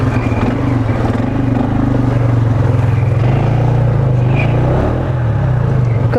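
An ATV riding through mud, its engine droning loud and close with a steady low rumble and a brief rev partway through, mechanical clatter underneath.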